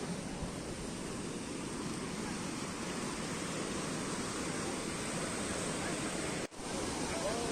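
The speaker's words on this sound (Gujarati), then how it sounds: "આ તમે જોઈ શકો છો નદીમાં જો એટલું બધું પૂર આવ્યું છે" The flooded Maleshri river rushes past as a loud, steady roar of broadband water noise, unbroken apart from one brief dropout near the end.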